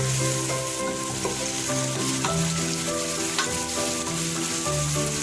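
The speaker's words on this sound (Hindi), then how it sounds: "प्याज को हम इसे अच्छी तरह भूनेंगे, जब तक ब्राउन ना हो जाए तब तक इसे भून करेंगे" Onions browning in hot oil for chicken biryani, stirred as they fry: a continuous, close sizzle with crackles and intermittent scraping and clinking of a spoon against the pan.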